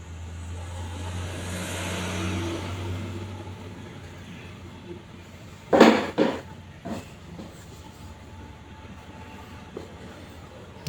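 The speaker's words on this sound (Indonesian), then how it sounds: "Jadi mobil truk CPO juga masih ramai ini" Road traffic in a jam on a highway, with CPO palm-oil trucks and cars: a steady engine drone and a passing vehicle swell, then sharp clunks and rattles of heavy trucks nearby.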